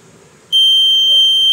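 An Arduino water level monitor's buzzer cuts in abruptly and holds as a loud, steady high-pitched electronic tone until the end, with a faint background hum before it starts.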